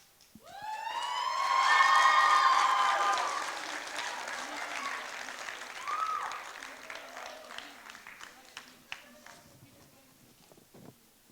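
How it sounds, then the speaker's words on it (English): Audience applause at a Scottish youth poetry slam final swells quickly into loud, full clapping, then slowly fades to scattered claps over several seconds. "Big round of applause for all the individual winners there."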